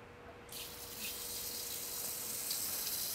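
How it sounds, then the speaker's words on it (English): A laboratory water aspirator switched on partway through, the quiet room giving way to a steady, hissing rush of running tap water that holds evenly to the end. "So I'll turn the water aspirator on."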